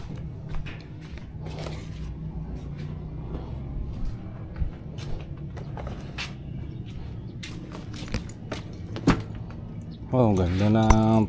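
Keys jangle in a few light metallic bursts outdoors beside a parked motorbike, close and fairly quiet, while people talk over them and a louder noise comes in at the end.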